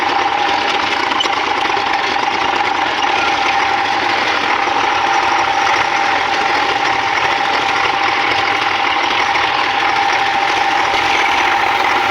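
A farm tractor engine runs steadily near a millet field, a loud continuous mechanical drone with a constant rattling hum and no pauses or talk.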